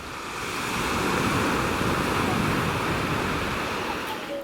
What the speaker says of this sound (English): you can hear the little boats bobbing along